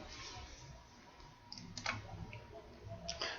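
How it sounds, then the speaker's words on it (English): Computer mouse clicks on a backtest menu screen, a few quiet, sharp clicks scattered over soft background hiss with no talking. "I'm actually clicking on the area below to activate these currently."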